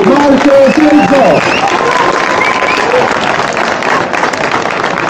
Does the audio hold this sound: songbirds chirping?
no